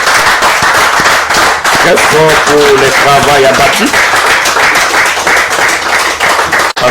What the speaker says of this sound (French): je vous prie et je vous demande de l'applaudir très fort